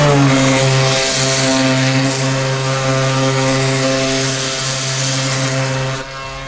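Bosch orbital sander running steadily and loud throughout, a constant motor whine with strong harmonic tones, no voices over it.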